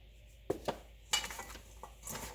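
Squash slices being tossed in cornmeal in a bowl, with a few sharp utensil clinks against the dish followed by softer scraping stir sounds, close and fairly quiet.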